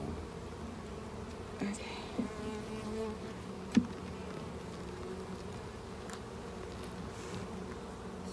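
Honey bees buzz steadily around an open hive during an urban backyard inspection, a close continuous drone with a few light knocks of frames and a brief spoken word.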